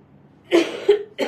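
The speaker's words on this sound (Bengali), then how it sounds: "ও কাশি আসতেছে" A woman coughs three times in quick succession, the bursts loud and near in an indoor room with little other sound.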